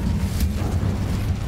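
An Incendio fire spell cast in the Hogwarts Legacy video game gives a loud, steady roaring rumble, dense and low, with a brief bright crackling flare early on and no pauses.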